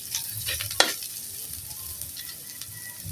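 Garlic and onion sauté in a pan with a steady soft sizzle, broken by a few quick clinks and one sharp tap early on; no talk.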